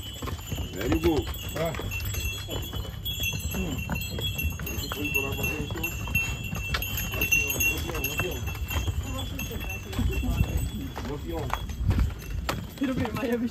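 Horse hooves clip-clopping along a path in Greece, a steady irregular series of hoof strikes mixed under ongoing chatter from several people nearby.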